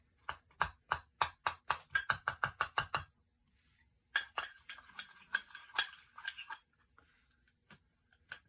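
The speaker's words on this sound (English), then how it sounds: "You kind of have to break it up and mix it right in there." Slime being mixed and its clumps broken up in a bowl, a close run of sharp, rhythmic clicking and squelching taps, a pause, then a looser, irregular burst of wet clicks.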